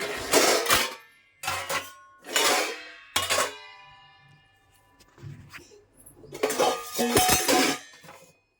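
Steel kitchen vessels being stacked and arranged in a home kitchen, with several bursts of loud close clinking and clattering separated by brief pauses, then a longer jumble of metal knocks near the end.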